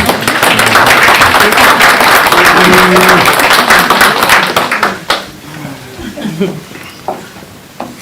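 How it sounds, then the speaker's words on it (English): Loud, dense applause fills the room after an oath of office at a North Carolina county government meeting, then thins to scattered claps and nearby talking in the last few seconds. "We can applaud."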